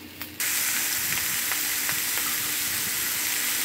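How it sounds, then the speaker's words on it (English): Sausages browning in a frying pan give a steady, close sizzle with a constant hiss and faint crackles, running alone without talk. "I've got the sausages pretty much brown now"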